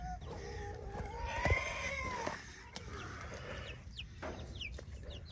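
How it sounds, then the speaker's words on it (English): Barred Rock mix laying hens cluck and call in their pen, several birds making rising squawks and short clucks at close range, fairly faint, with no one speaking. "These are my hen layers."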